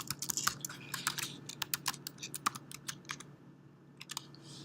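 Keys on a computer keyboard are tapped in quick irregular bursts while a password is entered, crisp close clicks with short pauses between runs.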